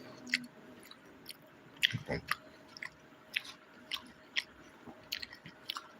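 Someone eating puttu with banana and papadam, chewing and crunching close to the mic in soft irregular bites, quiet with no talk.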